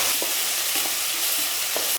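Onions sauté and sizzle in a hot pan for a quick rice dish, a continuous bright frying hiss with a few soft stirring knocks, close and clear with no talking.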